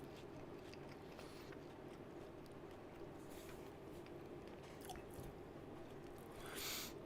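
Faint, close chewing and soft squishy bites of someone eating sausage rolls, with occasional crumbly crunches in an otherwise quiet room.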